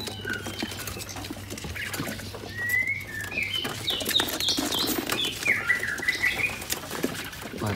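Birds kept in a bird shop chirp and whistle in short, high, bright phrases at close range, several calls in quick succession over a low hum of background noise, with no talking.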